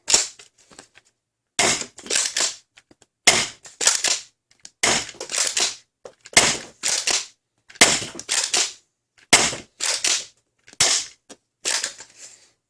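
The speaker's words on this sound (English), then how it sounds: "Oof, dry fire," Dart Zone Pro MK-II toy blaster dry firing with no dart loaded, a series of about eight sharp, loud mechanical snaps spaced over a second apart, each followed by brief rattling clicks, with nothing else heard.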